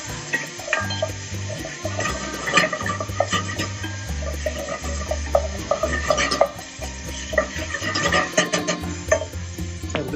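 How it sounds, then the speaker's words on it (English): A spoon stirs herbs and Parmesan through risotto in a pan, giving soft repeated scraping and sloshing with scattered clinks, close by and without talk. "I'm going to fold that through with the Parmesan"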